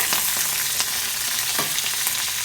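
Cumin seeds and curry leaves sizzling in melted ghee for a dal tempering, a dense continuous crackle with sharp spits and pops, close up and alone.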